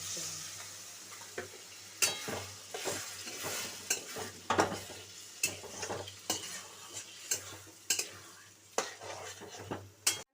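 Cashew, raisin and poppy seed paste plus water going into sautéed potatoes in a pan, heard as a close, steady sizzle with repeated sharp scrapes and clinks of a spoon stirring against the metal.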